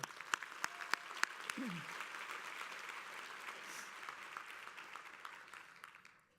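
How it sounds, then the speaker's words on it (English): A round of applause at the YWCA Chicago Leader Luncheon, steady clapping from a seated crowd that starts with a few sharp claps, holds fairly faint and distant, then tapers off toward the end. "And let's give them a round of applause."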